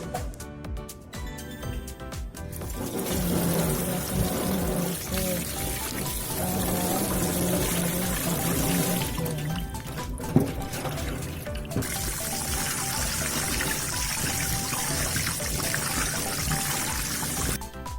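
Cleaned shrimp rinsed under running water, a continuous close splash and trickle with brief breaks and a soft knock midway.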